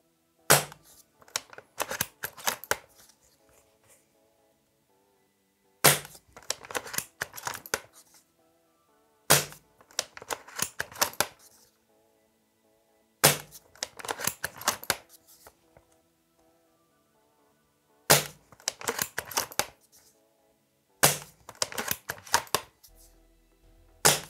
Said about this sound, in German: also geben wir mal ein paar Schüsse ab